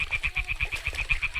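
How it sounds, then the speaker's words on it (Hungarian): Frogs croaking in a swamp in the video game Kingdom Come: Deliverance II, a rapid, regular chorus of nearby pulsing calls with low throaty throbs, without speech. "Ez csak a békák"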